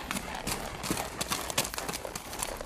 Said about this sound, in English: placed a saddle on my horse, and started as fast as possible down the trail taken by Powell.